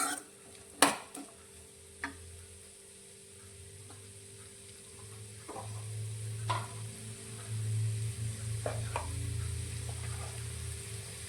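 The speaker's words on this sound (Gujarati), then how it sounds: "બધી જ વસ્તુને આપણે સારી રીતે સાતરીશું" Vegetables, including cabbage, sizzle in a pan while a spoon stirs and clinks against the metal for dry Manchurian, the frying hiss swelling louder toward the end.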